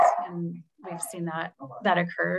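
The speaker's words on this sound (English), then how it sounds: "And that is my dog in the background." A dog barks in the background during a community council meeting, with short yips and barks mixed in under continuous nearby speech.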